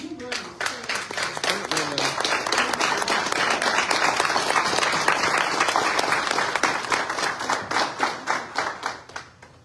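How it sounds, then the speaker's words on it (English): An audience at a city candidate forum applauds, dense sustained clapping from a room full of people that swells, holds, then thins into scattered claps at the end, with brief talk at the start. "let's give them a round of applause"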